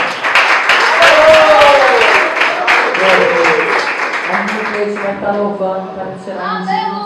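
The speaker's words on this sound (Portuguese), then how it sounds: "Aplauda o Senhor com as mãos." Church congregation clapping their hands during a service, a dense steady patter that carries on throughout, mixed with voices and some sung or spoken tones over the top.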